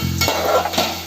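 Jackfruit pieces with masala are stir-fried for a Konkan-style dry bhaji, a short loud burst of scraping and sizzling close by.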